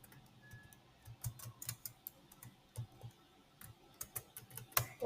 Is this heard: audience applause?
no